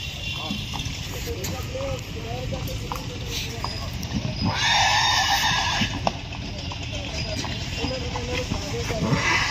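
Horses at the Muktsar horse fair, a livestock market in Punjab, with a neigh rising around the middle over continuous hoof clatter and busy crowd noise, while people talk nearby throughout.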